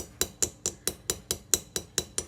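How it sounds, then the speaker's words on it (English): A small hammer gently taps a rivet screw while a riveted copper enamel earring is made, striking about ten light, evenly spaced metallic ticks close to the microphone. "I'm just going to gently tap that screw"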